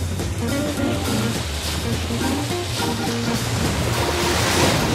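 Wind-driven waves while under sail with no engine, a steady broadband wash of water and wind rushing around the hull, continuous and close, with low muffled sounds underneath.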